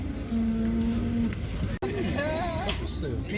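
Cattle at a livestock market near Almaty: one long, steady low moo, then a brief pause and a second, wavering bellow, heard over loud crowd chatter and market bustle.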